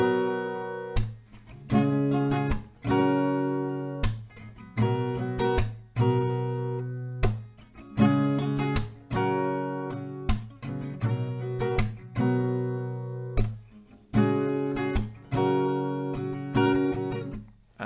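Acoustic guitar strumming the chords of a song at standard tempo, with sharp rhythmic strokes and ringing chords repeating in a steady pattern, close and clear with no talking.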